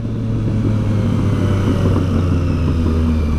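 A Triumph Street Triple 675 motorcycle engine runs loud and close in a steady low rumble that holds at a fairly constant pitch across the few seconds, without talking.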